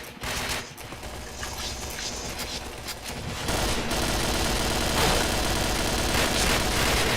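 Gunfire in the PointBlank online shooter game, dense bursts of rapid automatic shots running continuously and loudly, with mechanical clatter underneath and no talking.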